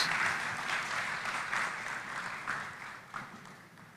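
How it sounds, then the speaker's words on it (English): Audience applause at a business forum in a large Nairobi conference hall, welcoming the COMESA Secretary General: dense, steady clapping from a big crowd that carries on alone and tapers slightly toward the end. "let's give her a round of applause"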